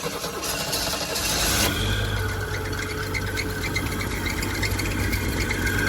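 A 1969 Chevrolet Nova, nearly rust-free with about 26,500 original miles, sputters and catches after a short cranking burst, then settles into a steady, loud, rough idle close by, with no talk over it.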